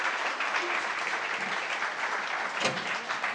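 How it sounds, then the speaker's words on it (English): An audience at a tech meetup fireside chat applauds steadily throughout, a dense wash of clapping with no pauses. "let's give a round of applause"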